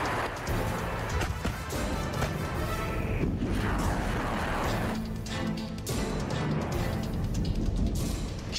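Rocket launcher fire during a Russian missile attack on Ukrainian positions, heard as a continuous loud rumble of heavy booms and blasts that lasts throughout.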